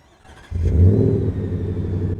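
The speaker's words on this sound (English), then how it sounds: "Do a little cold start." A 2025 Ford F-150 Raptor R cold-starts with a short whir, then bursts into a deep, loud V8 rumble that settles into a steady, throaty high idle, heard close up with no talking.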